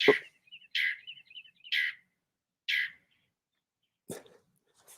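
A small bird in a video game chirps in short, separate bursts, four quick high calls followed by a sharper one, clear and close against silence.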